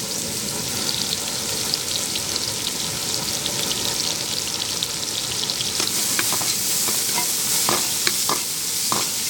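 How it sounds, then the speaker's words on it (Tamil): Chopped onion and green chili frying in oil for mutton keema give a loud, dense, continuous sizzle close up, with sharper crackles and pops growing busier in the second half. "அதுக்கு ஆயில் ஊற்றிக்குவோம். இப்போ சாப் ஆனியன் போடுறோம். கொஞ்சம் பச்சை மிளகா போடுறோம்."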